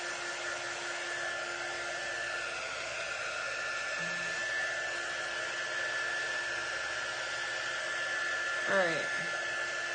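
Hair dryer drying a farmhouse craft project, a steady close whooshing blow running throughout with a faint whine, and a person speaks a single brief word over it.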